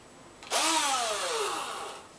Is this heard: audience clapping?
no